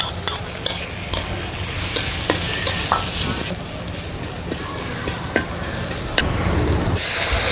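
Cumin, bay leaves, green chillies, garlic and onion tempering in hot oil, a loud, busy sizzle with repeated sharp spatula clacks and scrapes against the pan at irregular intervals, no voices present.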